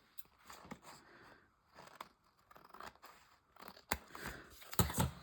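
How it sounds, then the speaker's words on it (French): Large scissors snipping through collage paper, a series of crisp irregular cuts with paper rustling between them, growing louder toward the end, close up. "je vais venir couper ce qui dépasse ici avec les grands ciseaux"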